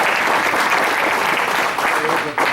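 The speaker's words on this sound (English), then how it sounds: "So let's applaud his efforts to build his dream garage." An audience gives sustained, dense applause at an outstanding teachers recognition event, loud and continuous throughout before a brief dip near the end.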